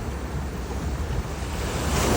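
Ocean surf rolling onto a beach in Portugal, a steady broadband wash of breaking waves with wind buffeting the microphone, loud and continuous with no talk.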